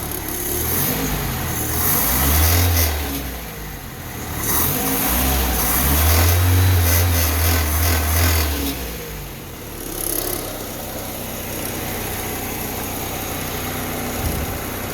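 A 1977 Toyota Chinook engine fitted with a Weber 32/36 carburetor idles at low rpm up close, its steady rumble swelling twice in gentle rises before settling back to an even idle.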